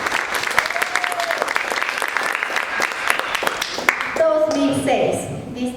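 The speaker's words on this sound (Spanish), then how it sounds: "Un aplauso para ella." Enthusiastic applause from a crowd at a panel discussion, dense clapping that fills most of the clip before fading as a voice and background sounds take over.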